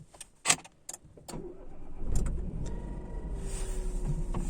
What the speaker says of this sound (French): le démarrage est nickel, le démarrage est parfait